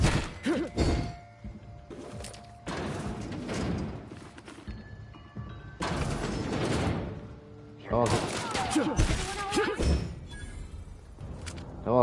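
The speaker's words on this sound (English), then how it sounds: "I don't know why they're shooting." Gunfire in the video game The Outer Worlds, loud bursts of shots in several clusters with crashing impacts, with talking mixed in between.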